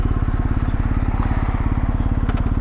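A steady motor drone with a buzzing, rapid pulse runs throughout as small two-stroke mopeds ride past close by on the road to Furka Pass in Switzerland, fairly loud and continuous.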